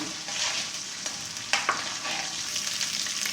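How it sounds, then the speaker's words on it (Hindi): Ground cumin stirred and lightly roasted in a karahi for Peshawari chicken karahi, a steady bright sizzle of frying with a couple of spoon scrapes, close and continuous. "इसको हल्के से हिलाएंगे और हल्का हल्का भूनेंगे"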